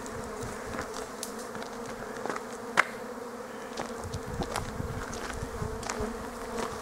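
Honeybees buzzing at a hive entrance on a mild February day during a cleansing flight, a steady close swarm drone with individual bees zipping past, no talking.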